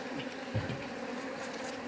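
Honey bees buzz around beehives at a highland apiary, a continuous drone with a few louder passes as bees fly close.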